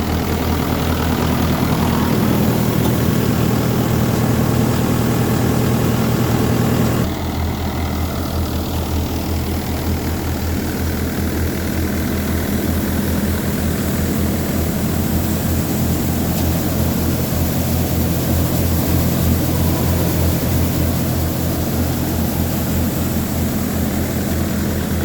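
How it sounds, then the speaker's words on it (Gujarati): A Mayur double-tank thresher runs on a Mahindra 585 4x4 tractor, giving a loud, continuous low engine drone and mechanical roar that dips a notch after a few seconds and then holds steady, with no voices. "તો ચલો આવો મયુર થ્રેશર ડબલ ટેન્કનું પરફોર્મન્સ જોઈએ."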